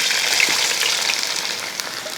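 Chopped ginger sizzling in hot oil in a pan, a steady close frying hiss with faint crackles throughout, no voices.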